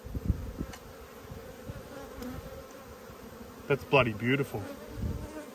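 Honey bees buzzing around open hive frames in an Australian backyard apiary, a faint steady drone with bees passing close, while someone speaks briefly.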